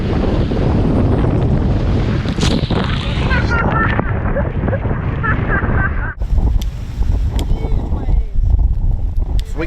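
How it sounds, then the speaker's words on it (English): Strong ocean wind roars across a sailboat running with no sails out in 30-knot gusts and big seas, a loud steady buffeting rush with a sharp drop partway through before the blast resumes. "30 knots of wind, 32 knots of wind."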